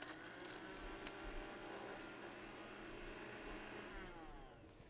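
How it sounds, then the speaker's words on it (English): A kitchen blender purees cooked ingredients, giving a steady, loud motor whir with grinding churn that holds for the whole stretch, easing slightly near the end. "So then it's a matter of just blending that to puree it."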